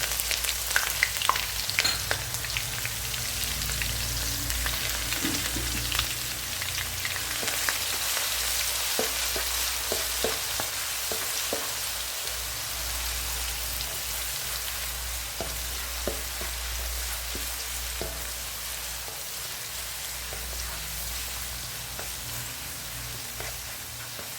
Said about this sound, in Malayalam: വെളുത്തുള്ളി ഇതിലേക്ക് ഇട്ട് കൊടുക്കുകയാണ്